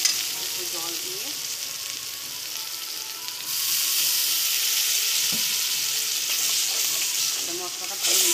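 Spices with turmeric and salt sauté in a pan for pointed gourd curry, a steady sizzle that swells louder partway through, with a few scrapes of stirring.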